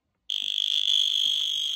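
A 5-volt piezo buzzer added to a K2 EMF meter chirps as it nears a soldering iron, a sharp shrill tone that starts abruptly, stutters rapidly at first, then settles into a steady close continuous beep.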